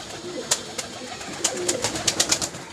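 Pigeons coo in short soft bursts amid the bustle of a pigeon market, several birds calling close by in an irregular run of notes.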